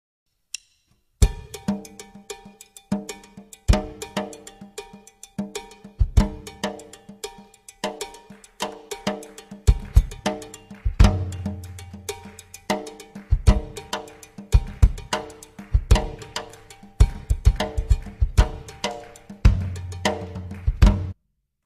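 A Mozambique groove, a busy drum-kit pattern with a cowbell riding on top, dense and continuous with bass drum thumps underneath. It plays for about twenty seconds with no talking.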